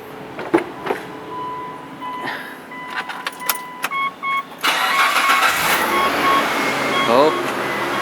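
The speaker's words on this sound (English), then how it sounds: "Let's start the engine." A car engine cranks and starts after a belt tensioner replacement, preceded by jangling keys and clicks, then settles into a steady idle while a person talks over it.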